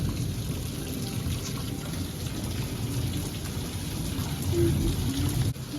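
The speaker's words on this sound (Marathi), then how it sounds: "ढग एवढे गडगडतात आणि काळोख करून पाऊस दिलो" Steady monsoon rain hisses and patters continuously in coastal Konkan, with a low rumble of thunder beneath it and no voices.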